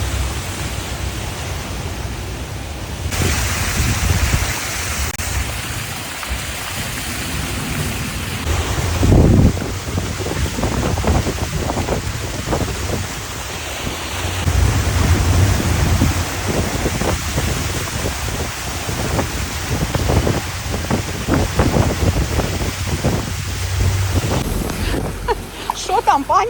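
Steady broadband rush of heavy monsoon-season rain in Thailand and wind buffeting the microphone, continuous throughout, with voices talking intermittently over it.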